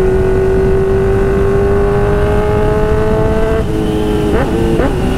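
A new Honda Hornet motorcycle engine drones loudly and steadily at close range while riding, its pitch rising gradually, then dipping and climbing again in a couple of quick rev changes near the end, with no voices.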